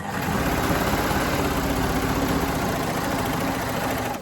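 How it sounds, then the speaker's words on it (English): A coverstitch sewing machine runs continuously at speed, a steady dense mechanical whirr that hums close and even for several seconds before slowing at the end as it chains off. "if you do have a machine like this one where you can actually chain off, you can continue to sew and it will actually create a chain at the end of your work"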